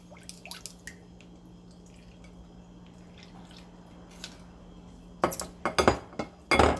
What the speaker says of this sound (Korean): 여기다가 새콤달콤해서 간을 좀 부어주면 맛있는 비트 장아찌가 돼요